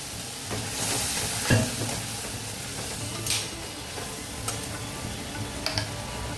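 Hot water is added to a bhetki fish curry frying in a mustard, poppy seed and coconut paste, giving a steady, close sizzle with occasional sharp clicks of stirring and no voices.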